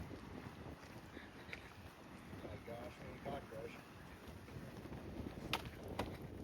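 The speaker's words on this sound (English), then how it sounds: "a little bit breezy out" Breezy outdoor wind on a hiking trail at Highland Creek, a steady low rumble buffeting the microphone with faint footsteps and brief clicks, fairly quiet throughout.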